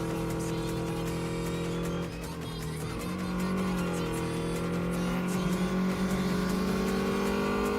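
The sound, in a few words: opponent's race car engine revving in video game Redline Reverie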